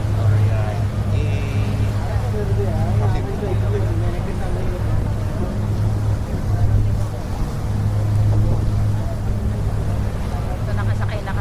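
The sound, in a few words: boat ride on Dubai creek at Al Seef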